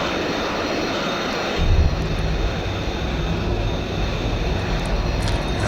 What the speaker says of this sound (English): Gear coming down.